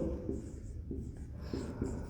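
Chalk or marker writing on a board during a trigonometry class, soft scratchy strokes in short bursts, faint and close in a quiet room.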